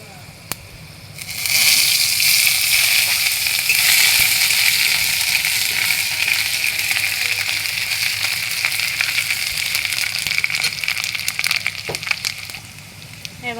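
Panch phoron spices and chopped ginger frying in hot oil in a pan, a loud, steady sizzle that bursts up after a quiet second and holds, with scattered crackles and pops throughout.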